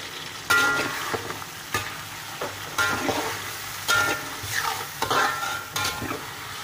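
Ground spice paste for a curry gravy for twenty people fries in a pot, with loud scraping stirs in repeated bursts over a steady close sizzle.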